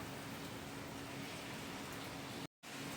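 Steady rain falling outdoors at a home vegetable garden, a dense, even hiss of drops, faint and continuous apart from a brief dropout near the end.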